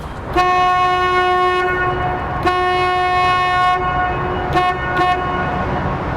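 Boat horn signal on the Charles River requesting a bridge opening: one long loud blast followed by one shorter blast and two quick short toots, all close and ringing over engine hum.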